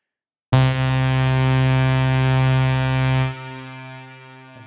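A synthesizer patch of stacked sawtooth oscillators, one dropped an octave, with distortion holds a loud, buzzy sustained tone for about three seconds, then falls to a quieter fading tail.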